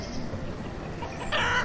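Chickens clucking on a farm in the city-building game Banished, a soft continuous cluck against steady background noise, brightening briefly near the end.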